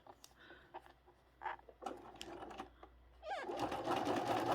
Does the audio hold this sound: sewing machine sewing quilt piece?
yes